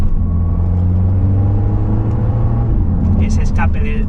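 Volvo V60 Polestar with a turbocharged engine and sport exhaust, heard as a loud, steady engine drone and low rumble throughout, with some higher whirring near the end.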